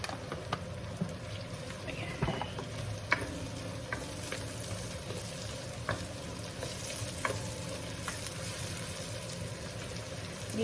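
Onions sautéing with chili in a pan for bopis, a steady crackling sizzle with scattered spatula scrapes and taps throughout, no speech.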